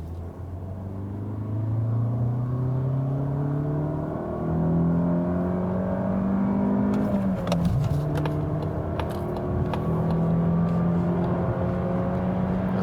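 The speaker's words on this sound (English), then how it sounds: "Now the CX-30 acceleration second gear from 40 kilometers." A Mazda CX-30 with the Skyactiv-X engine pulls hard in second gear from 40 km/h, its engine note climbing steadily in pitch through rising sweeps, then a brief disturbance and a steady higher drone heard from inside the cabin.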